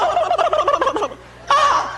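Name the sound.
man imitating a turkey gobble, bird call contest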